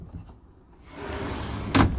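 Bedroom door opening inside a Frankia Titan luxury motorhome, a soft slide and rumble building over a second before a sharp knock or latch clunk near the end, close and fairly quiet.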